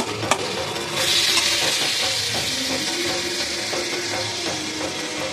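Tomato being sautéed in onion and hot oil for a Bengali chicken kosha, a loud steady sizzle with repeated spatula scrapes and stirring strokes against the pan.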